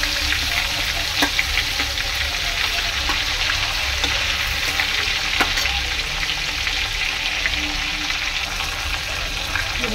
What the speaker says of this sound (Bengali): মাছটা আমি এক এক করে ছেড়ে দেবো।